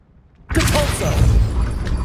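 Depulso spell blast in Hogwarts Legacy, a sudden loud whooshing burst that erupts after near silence and rumbles on, close and heavy.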